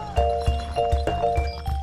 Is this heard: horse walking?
yes